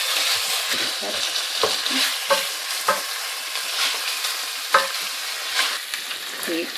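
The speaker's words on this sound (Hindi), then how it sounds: "ये देखें चिकन भुन गई है।" Chicken stir-fries in a pan for dhaba-style murgh cholay, a steady sizzle under repeated scraping strokes of a spatula, close and continuous.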